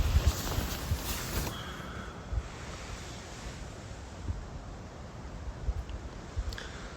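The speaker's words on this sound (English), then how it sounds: "There wasn't supposed to be much wind at all, but it has picked up." Wind gusts around a tent at a camp in a lush New Zealand mountain valley, making a steady broadband rush with flapping buffets. It is fairly faint overall and stronger at first.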